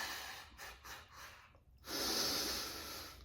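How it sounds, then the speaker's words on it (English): After a cold plunge, a person takes a few short rhythmic breaths, then one long, loud gasping inhale rushes in, close and breathy, with no talk. "Feel that gasp reflex,"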